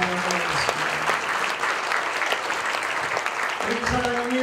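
Steady, dense applause from an audience at a church book-launch ceremony, many hands clapping continuously and loudly, with a speaker's voice briefly heard over it.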